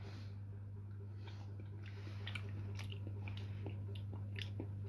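Black garlic being tasted and chewed, soft close-up crunching and chewing clicks, faint against a steady low electrical hum in a quiet room.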